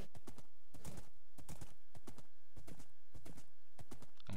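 Rhythmic clip-clop of horse hooves trotting at a steady pace in Minecraft, crisp and close, with no talking.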